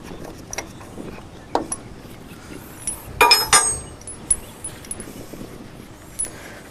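Caging tool pulled from a truck brake chamber, sparse metallic clinks and clatters with a louder burst of rattling near the middle, close against a quiet background.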